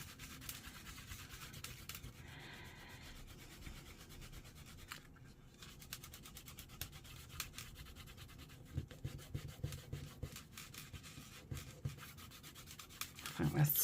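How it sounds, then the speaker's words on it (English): Steady rubbing and scrubbing of wet, glue-covered wallpaper stretched over a journal cover, a continuous close scratchy friction sound with brief pauses and a louder burst at the end. "I'm going to rub this severely while it's still wet to get that"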